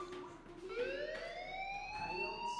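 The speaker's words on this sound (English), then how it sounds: "do you hear that fire alarm?" A fire alarm rings in the video game Life Is Strange with a rising, wailing electronic tone that sweeps upward and holds. It sounds somewhat distant and faint, with no talk over it.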